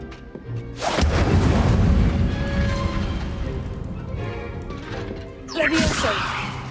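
A fire spell, Incendio, cast in the video game Hogwarts Legacy, bursting out as a loud, rough roaring blast that rumbles on for several seconds before a second sharp flare near the end.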